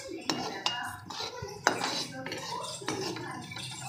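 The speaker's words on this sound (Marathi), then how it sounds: "जिरं पण आपल्याला भाजून घ्यायचं आहे।" Cumin seeds dry-roasting in a kadhai while being stirred, with repeated metallic spoon scrapes and clinks against the pan, close and fairly loud, and a voice faintly heard underneath.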